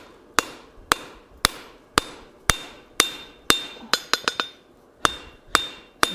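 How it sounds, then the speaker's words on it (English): Sharp metallic hammer blows on hot steel ring out one after another at a steady pace, with a quick flurry of lighter taps midway; no talking. "we're going to try to hammer off the corners first"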